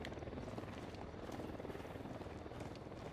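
A helicopter in a military shooter video game makes a steady, loud, rumbling rotor wash that runs throughout without a break, with no speech.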